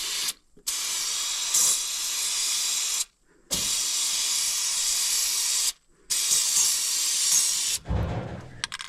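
White lithium grease sprayed from an aerosol can onto a farm truck part, four long steady hisses separated by short pauses, close and loud, followed by a brief low clunk.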